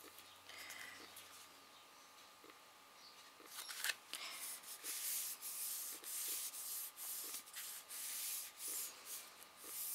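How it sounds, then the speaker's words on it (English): Paper rubbed firmly onto the glued raised edges of corrugated card for a decorative frame, heard as close, dry, repeated scratchy rubbing strokes that grow steadier in the second half. "rubbing to make sure I get contact"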